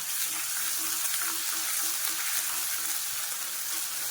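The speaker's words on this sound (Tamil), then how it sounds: "கடுகு சேர்த்ததுக்கப்புறம் ஒரு 1/2 ஸ்பூன் இஞ்சி பூண்டு பேஸ்ட்டு சேர்த்துக்கிறேன்" A dense, steady sizzle of ginger garlic paste frying in hot oil, close and constant, with no voices.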